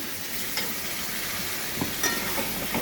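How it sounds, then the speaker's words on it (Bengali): Chicken with whisked yogurt sizzles steadily in a pan while being stir-fried for Bengali chicken kosha, a constant broadband fry with occasional light scrapes and stirring knocks, close and alone. "এরপরে আমি দই ফেটানোটা দিয়ে দিলাম। ভালো করে কষিয়ে নিয়ে রান্নাটা করছি।"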